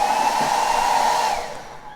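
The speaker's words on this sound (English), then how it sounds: "I will demonstrate that this hair dryer is in fact on." A hair dryer blows with a loud, steady, close-up whoosh and hum, then drops to a quieter level for the last half second.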